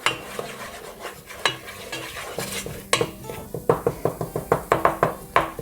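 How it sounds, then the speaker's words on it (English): Spices cooking in coconut oil in a pan while being stirred: a utensil scrapes and knocks against the cookware in irregular, close clatters, growing into a quicker run of taps, over a faint sizzle. "So I'm gonna cook those spices together with some coconut oil until they brown up."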